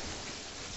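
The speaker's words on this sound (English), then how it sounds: "Oh shit, it's raining." Heavy rain in the Terraria video game, a dense, even hiss of falling water that is steady and unbroken for under a second.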